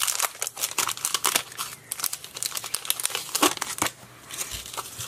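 Crinkly plastic wrapping around Stampin' Up crafting products rustles and crumples close by in repeated bursts as the items are unwrapped and rewrapped, with no talking.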